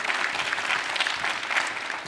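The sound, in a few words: comic con audience applause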